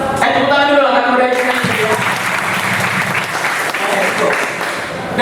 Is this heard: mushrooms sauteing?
no